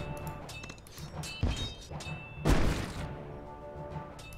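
In the tower-defense game Kingdom Rush, cannon towers fire in two heavy thuds with crashing impacts, set against a busy mix of small game effects and no talking.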